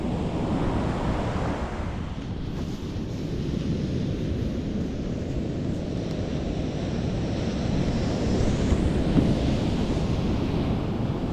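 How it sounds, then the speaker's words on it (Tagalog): Heavy ocean surf crashes and rumbles steadily on a fishing outing, with wind buffeting the microphone; a constant roaring wash with no voices. "Pero malakas ang alon."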